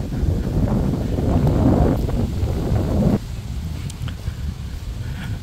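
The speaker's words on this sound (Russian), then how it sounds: "ветер не кстати поднялся" Outdoor wind buffets the microphone on a warm day near trees and a playground, producing a low, rumbling gusty roar. It eases into a softer, steady rush after a few seconds.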